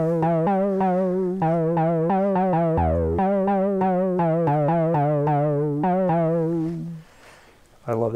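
A buzzy, harmonically rich modular synthesizer tone plays a series of stepped pitches with wobbling modulation, loud and close, cutting out near the end.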